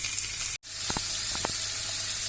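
Small pieces of skinned, deboned salmon sizzle in a frying pan with a steady, soft hiss, broken by a brief dropout and a few light clinks.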